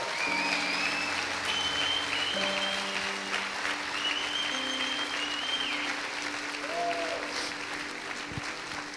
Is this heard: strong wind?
no